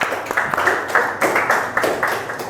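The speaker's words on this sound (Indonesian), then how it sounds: "tepuk tangan untuk kita semua" A classroom group claps together, a moderate, fairly even patter of hands lasting a couple of seconds, close and somewhat loud.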